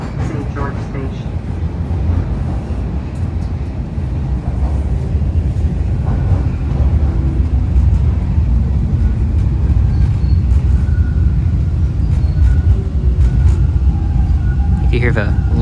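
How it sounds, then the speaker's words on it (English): Continuous low rumble of Toronto Line 1 subway trains running overhead at St. George Station, a steady heavy drone with faint rattles and occasional squeals, with indistinct talk underneath. "You can hear the Line 1 trains above us."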